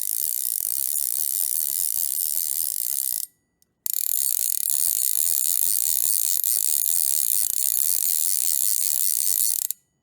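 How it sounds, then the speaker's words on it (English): Orvis Battenkill click pawl fly reel set up for left-hand retrieve, spun to give a fast, steady buzzing ratchet of clicks, close and bright, broken by a short silence before a second long run. "click pulls generally sound great, and this one is no exception."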